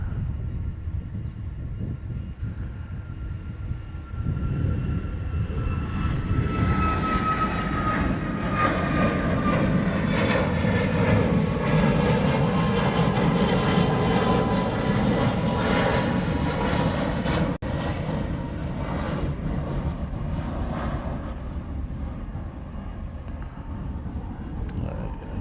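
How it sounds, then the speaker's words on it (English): A UPS cargo jet comes in to land on a runway at Honolulu airport, its engine roar rising from a distant rumble to a loud, sustained whine and then slowly fading away. "we have the other UPS coming in on the other runway"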